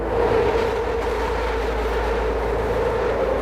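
An elevated train rolls along an overhead line in northern Philadelphia with a sustained, loud low rumble and a steady mid-range rail drone. The sound is continuous and close, with no voices.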